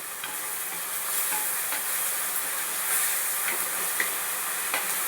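Drumstick leaves sautéed in a pan for a village-style curry give off a steady, close sizzle and hiss, with soft stirring scrapes and small clicks scattered throughout. No one speaks.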